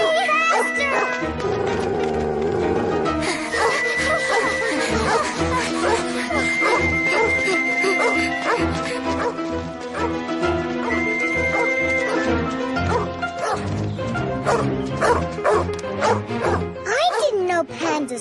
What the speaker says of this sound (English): A wild dog! Run! Run!